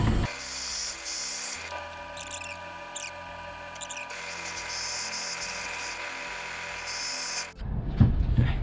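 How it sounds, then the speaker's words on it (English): Power drill boring through an epoxy-filled axe, a loud close high-pitched whine that labours steadily for several seconds, briefly dips and resumes, then cuts off into handling clatter. "Drilling through this was way harder than what it needed to be."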